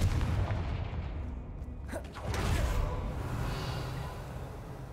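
A Confringo explosive spell in Hogwarts Legacy bursts with a sharp crack followed by a rumbling blast that decays slowly, set over a low game ambience.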